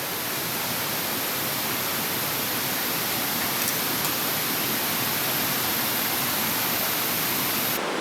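Waterfall in Thailand, a constant broadband roar of falling water, loud and unbroken with no voices.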